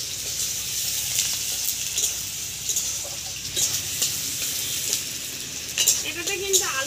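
Chopped onions sizzle and fry steadily in hot oil in a pan for a spicy fish curry, a continuous close crackle with light stirring scrapes and no talk.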